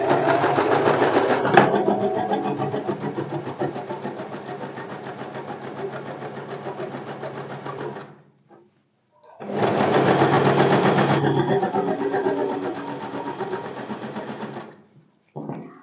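A sewing machine stitches a blouse back in two long continuous runs, a loud steady rapid mechanical whirr that stops briefly, restarts, and cuts off again near the end, with no talking.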